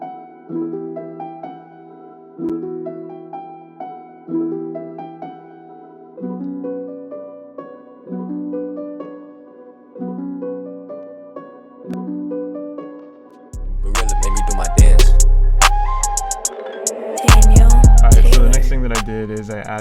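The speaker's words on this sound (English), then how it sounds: "So with the piano and then the pad that I made out of the piano, it sounds like this." Soft piano chords repeat in a gentle rhythmic pattern, then a reversed pad made from the same piano swells in with deep booming low end, louder and denser, in an FL Studio dark beat.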